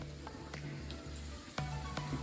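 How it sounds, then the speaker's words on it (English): Banana fritters in batter fry in hot oil over high heat, a soft steady sizzle with a few faint clinks of utensils. "just dip them in the batter and continue frying them"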